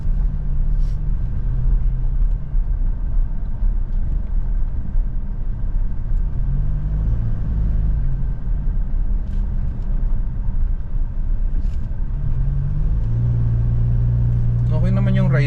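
Toyota Hilux G 2.8 diesel pickup on a test drive, its engine a steady low rumble throughout with a rising surge near the end as the throttle is pressed.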